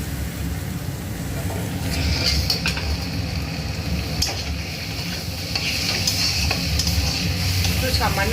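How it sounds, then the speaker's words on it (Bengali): Chowmein with generous tomato sauce and a pinch of turmeric is stirred in a hot pan, a loud continuous sizzle with scraping and clinking of the utensil against the metal throughout. "দিয়ে ভালো করে নাড়াচাড়া করতে হবে বন্ধুরা।"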